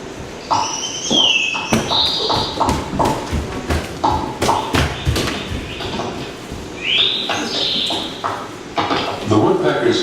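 Woodpeckers pecking fresh holes in resin-coated trees: sharp, irregular wooden taps scattered across the stretch, mixed with short chirping bird calls and a voice speaking over them.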